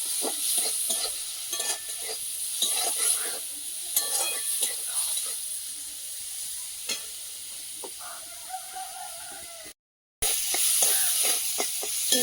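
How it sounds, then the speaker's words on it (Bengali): Pabda fish frying in a pan crackles with a steady close sizzle and scattered spitting pops, broken by a brief moment of silence before the frying noise returns. "মাছটা ভেজে নিয়েছি"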